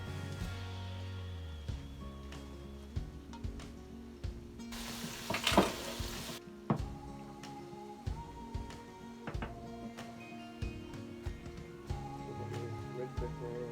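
King prawns frying in a pan with a steady close sizzle and crackle, punctuated by spoon-stirring clinks and a brief louder hiss midway.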